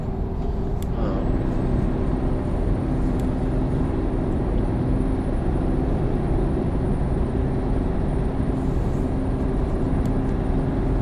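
A Mack truck engine brake in American Truck Simulator, a loud, steady rumbling drone that holds without a break throughout.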